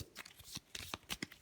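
A deck of game cards riffles in several quick, crisp bursts, close and fairly quiet, while being reshuffled during a solo Worldbreakers tabletop game.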